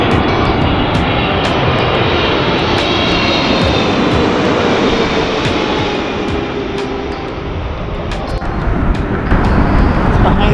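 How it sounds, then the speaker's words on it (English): An airplane engine roars steadily overhead for the whole stretch, loud and broadband, dipping slightly before swelling again near the end. "You gotta love watching those planes."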